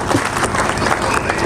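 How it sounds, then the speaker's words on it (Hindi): A large audience gives sustained, dense applause at a public gathering in Machhlishahr, Uttar Pradesh, welcoming an MLA, with steady clapping and loud crowd noise throughout the whole moment. "जोरदार तालियों के से उनका स्वागत करें, उनका अभिवादन करें"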